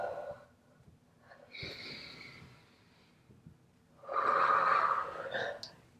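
Slow, audible exhales during a prenatal yoga session, breathy and close, coming in two soft drawn-out waves with a quieter breath between.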